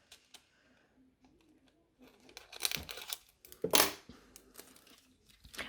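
A small piece of nail art material is cut in a quiet setting, with soft snips and crinkling, faint at first and then building into louder, sharp tearing rustles, followed by scattered light clicks.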